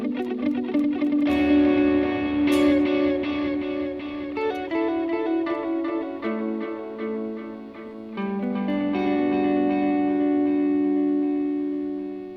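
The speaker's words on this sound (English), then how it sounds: "with ping pong delay." Electric guitar through a stereo ping pong delay pedal on a pedalboard, playing loud sustained chords and picked notes whose repeats bounce and trail off with echoing decay.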